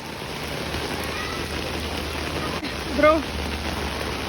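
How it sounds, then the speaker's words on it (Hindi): Heavy rain falling steadily over a flooded park in Meerut, a dense constant hiss close by, with a brief voice and a short splash-like sound near the end. "आज हुई है बहुत सारी बारिश"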